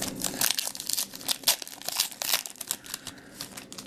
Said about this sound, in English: Little scissors on my way.